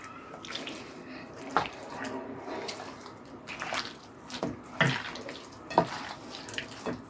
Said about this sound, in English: I'm going to wash my hands and mix it.